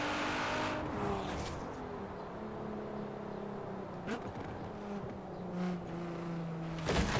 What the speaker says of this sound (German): Der schöne GTR-Motor ballert ordentlich.